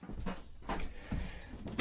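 A cluttered junk drawer in a camper travel trailer being pulled open, a series of muffled wooden knocks and sliding scrapes close by, ending in a sharper clack as contents shift; no talk.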